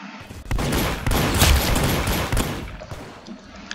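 Rapid pistol gunfire rattles through a Roblox Arsenal match, loud and dense bursts of shots filling most of the stretch before tapering off near the end.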